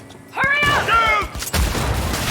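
Gunfire during a vehicle chase in the video game Cyberpunk 2077: a loud, continuous crackling barrage of shots and impacts that flares up and holds steady, with a voice speaking briefly over the start.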